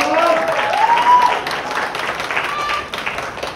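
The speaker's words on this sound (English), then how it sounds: "Crowd is cheering Larhvin on." Wrestling crowd at an Amplify event cheering and applauding steadily, a broad wash of clapping and shouts with a few louder swells, fairly close and continuous throughout.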